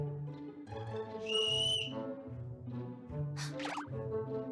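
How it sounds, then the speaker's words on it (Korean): An eerie whistle in the Trickcal RE:VIVE video game, high thin tones rising and sliding twice over a soft, low melodic game backdrop, with no voices. "아까 들렸던 휘파람 소리?"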